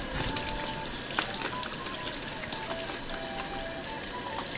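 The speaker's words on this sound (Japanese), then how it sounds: "メバルはね、水流しながら包丁で簡単に取れます。" Steady running water from a tap splashes close by, with faint scraping and clinking as a knife scales a rockfish in the stream.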